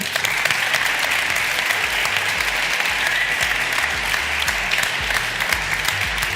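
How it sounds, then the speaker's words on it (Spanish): Studio audience applause greets a volunteer on a live Spanish science show, a dense, steady wash of clapping that runs evenly throughout without pause. "Un aplauso para A él."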